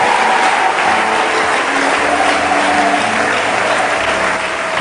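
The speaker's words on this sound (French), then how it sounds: "acclame très fort pour le Seigneur" A church congregation applauds loudly and continuously for the Lord, a dense, steady wash of clapping with faint voices and a few sung notes underneath, lasting throughout.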